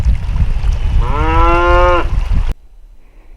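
A bull in a mountain village in Ushguli, Georgia, lets out one loud, drawn-out moo that rises and holds over rushing outdoor background noise before the sound cuts off suddenly.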